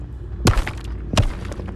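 Spell impacts in the Hogwarts Legacy video game: two heavy magical thumps with a crackling burst, about three-quarters of a second apart, close and punchy over a low ambient hum.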